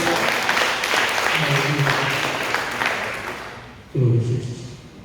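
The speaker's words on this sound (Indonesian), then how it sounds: "Tepuk tangan Tuhan Yesus." A church congregation claps together in a sustained burst of applause with voices mixed in during a sermon, then the clapping stops and a single voice speaks.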